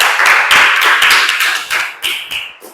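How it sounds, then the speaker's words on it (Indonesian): A class in an Islamic cultural history lesson claps hands together, a burst of sharp, overlapping claps in a quick rhythm that thins out and stops near the end, close and loud. "Luar biasa, tepuk tangan."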